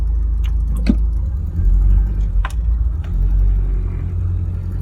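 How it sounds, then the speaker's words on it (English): A 1992 Toyota Hilux Surf is driven along, its engine giving a low steady rumble with road noise, heard from inside the cabin, with a few brief clicks and knocks over the drone. "So the car is still going very easily."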